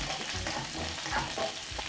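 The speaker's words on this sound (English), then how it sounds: "I'll just keep stir frying so it doesn't burn." Onions sizzle steadily while being stir-fried in a pan for a sweet chili chicken dish, a continuous, fairly soft crackle with no talking.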